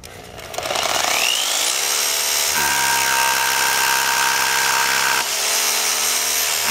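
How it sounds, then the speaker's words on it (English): A power drill drilling overhead into concrete whines up to speed and grinds steadily, loud and close, its pitch shifting as it bites in, continuous for several seconds. "Pre-drill the proper size hole using the overhead drill machine."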